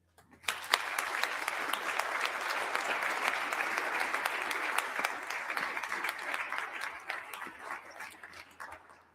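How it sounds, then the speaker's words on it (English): An audience at a live event in Idaho claps for visiting ambassadors in a sustained, dense round of applause that swells quickly and then slowly tapers off, with no speech over it. "let's just give a general round of applause to all of those ambassadors who are here with us today"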